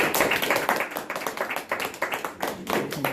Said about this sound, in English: let's have a nice round of applause for Doug.